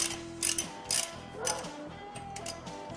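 A ratchet wrench turns a rotor bolt on a Moto Guzzi motorcycle held in first gear, giving quiet, close bursts of rapid clicking that come and go in short strokes.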